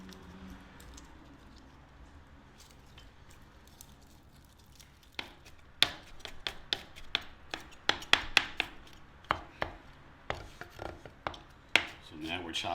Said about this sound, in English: So now we're chopping up some fresh garlic for our dish here.